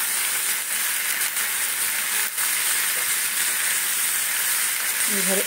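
Potato pieces hiss in hot oil in a pan for a home-style aloo sabzi, a loud, even frying sizzle that holds steady from start to finish with a faint stir near the end.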